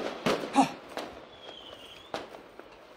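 Fireworks pop outdoors in scattered sharp bangs at irregular intervals, some nearer and louder than others, with a faint high whistle trailing between them.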